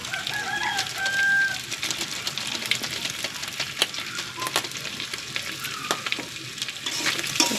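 Meat and potatoes frying with biryani masala, a loud continuous sizzle with frequent crackles and spatters up close, and a faint rooster crow in the background.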